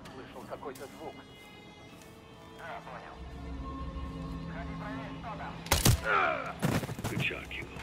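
Gunfire in Call of Duty Modern Warfare III: sharp shots crack out in a cluster near the end, over ambient battlefield sound and scattered voices.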